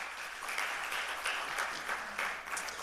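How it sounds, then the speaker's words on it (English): Brief, fairly faint applause rises from a conference audience for a professor and panel members, as a soft, even patter of many hands that stays at a distance. "Would you just please give Professor Makunyana as well as the panelists a round of applause?"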